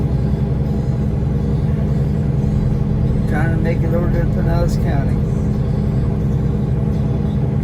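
Steady road rumble of highway traffic on I-4 in Florida, heard from inside a truck, a constant low engine and tire drone filling the whole stretch while someone talks over it midway.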